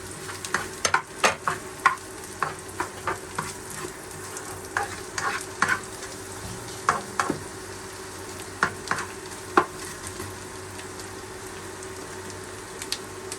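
Garlic and onion sauté in a hot pan with a steady, fairly quiet sizzle, broken by a string of sharp clicks and scrapes from a utensil stirring against the pan at uneven intervals. No one speaks.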